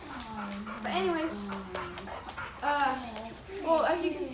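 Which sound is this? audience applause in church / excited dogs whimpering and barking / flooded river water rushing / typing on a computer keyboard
excited dogs whimpering and barking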